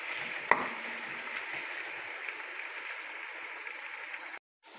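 Chopped onions frying in oil over a high flame for korma, giving a steady, moderately loud sizzling hiss with a brief click near the start, before cutting to silence at the end.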